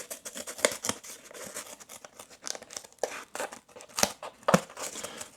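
ROXON FLEX multitool scissors snip through cardboard in a series of sharp, close cuts and crunches, irregular in rhythm with a few louder snaps near the end, with no talk.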